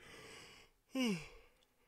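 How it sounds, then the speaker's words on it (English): A single drawn-out yawn from a man, close and fairly loud, rising quickly and then falling away into a breathy sigh, with no talk around it. "I had to yawn right there"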